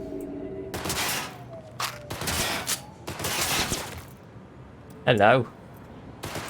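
Gunfire in Cyberpunk 2077 comes in scattered bursts of close, loud shots separated by short gaps, with a voice briefly speaking between them.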